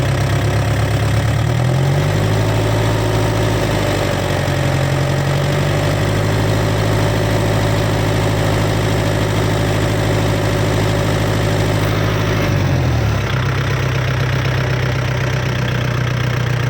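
A 2018 Kubota 50 hp tractor engine idles with a steady, loud diesel rumble and fixed low hum, shifting pitch briefly near the start and again toward the end, with no talk over it.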